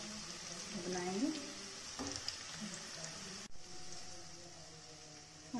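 Onions frying in a pan for an egg and pea curry, a soft continuous sizzle with occasional stirring scrapes, quiet and close, with a faint voice in the background.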